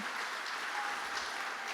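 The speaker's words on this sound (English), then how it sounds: "Big round of applause for David, the medium." Brisbane audience applause for David the medium as he comes on stage, a steady even wash of clapping from a large crowd, fairly soft and with no voices over it.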